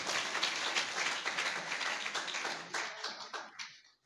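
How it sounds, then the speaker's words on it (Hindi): A church congregation at a Friday youth service claps together in steady, dense applause that fills the room, then thins out and fades away. "आइए फिर से ताली बजाएंगे यीशु के लिए"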